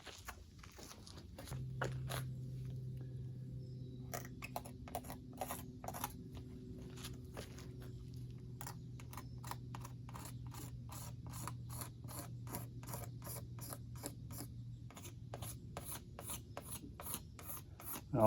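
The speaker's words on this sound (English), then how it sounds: "I'm gonna first shave this off a little bit with a razor blade, get the high spots off, and I'm gonna sand it with some 320" A razor blade scrapes high spots off custom car paint, then 320-grit sandpaper rubs the surface, a long run of quiet rhythmic scraping strokes close up with a faint low hum beneath.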